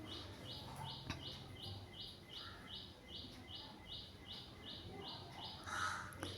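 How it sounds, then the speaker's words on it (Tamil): Small birds chirp around a house in short, evenly spaced bright calls that repeat steadily over a constant low background hum, fairly faint and without speech. "நம்ம வீட்டை சுற்றி நிறைய பறவைகள் இருக்கிறதுனால சத்தம் கேட்குது"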